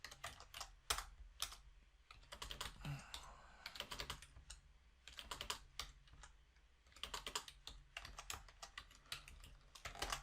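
Typing on a computer keyboard, with quiet, close key clicks in uneven bursts and short pauses and no speech.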